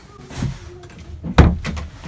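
A toilet door in a 2019 Buccaneer Baracuda caravan shuts with a single close, solid thump after some light handling noise, with brief talk nearby.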